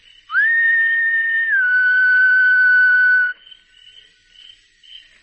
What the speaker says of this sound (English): Looking up, he whistled softly.